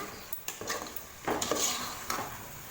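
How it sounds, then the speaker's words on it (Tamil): A spoon stirs curd into mutton dum biryani masala in a metal pot, with soft repeated clinks and scrapes over a faint sizzle and no talk. "தயிர் சேர்த்துட்டு இதை நல்லா மிக்ஸ் பண்ணி விடுங்க."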